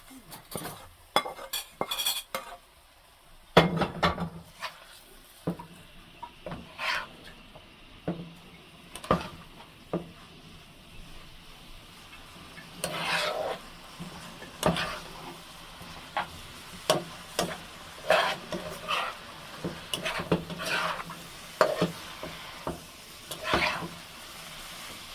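Matar shak, pea greens, stir-fry in a pan, a soft sizzle running underneath repeated sharp clinks and scrapes of a utensil against the metal, spaced irregularly across the whole stretch, close and moderately quiet.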